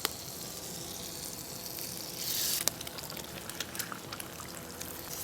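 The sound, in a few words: eggs cooking in butter in a pan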